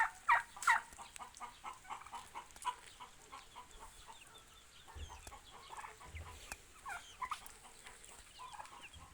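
Soft, scattered clucks and gobbling calls from a group of turkeys, faint and somewhat distant, with no talking.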